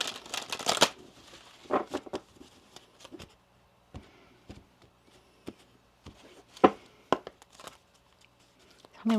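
Tarot cards being shuffled by hand, several quick riffling bursts and soft papery flicks separated by pauses, close and fairly quiet with no talking.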